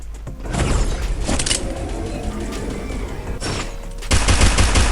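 Rapid bursts of gunfire in the mobile shooter Free Fire, loud clattering volleys at the start and again at the end, with sharp isolated shots and mechanical clicks between them.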